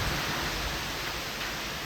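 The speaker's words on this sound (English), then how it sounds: "now the rain's coming down in sheets" Heavy rain comes down in sheets at night over a backyard Halloween haunt, a loud, dense, steady wash of water with no voices.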